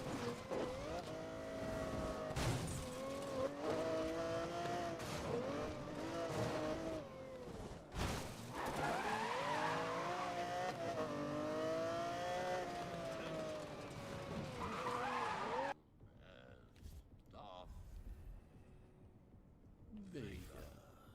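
A car in Need for Speed: Most Wanted tears off-road with a loud, revving engine whose pitch sweeps up and down, broken by skids and thumps before cutting to quieter rattles near the end.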